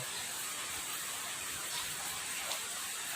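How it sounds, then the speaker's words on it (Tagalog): Heavy rain pours down outside in a garden, a dense, steady hiss of falling water that stays constant and fairly faint throughout, with no voices. "Sobrang lakas ang ulan ngayon dito"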